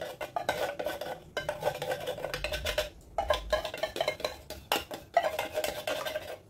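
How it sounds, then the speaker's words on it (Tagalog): A utensil scrapes and stirs a thick pumpkin and condensed milk mixture in a pot, making continuous rhythmic scraping strokes with brief pauses, close and fairly loud without talking. "Ihalo natin mabuti."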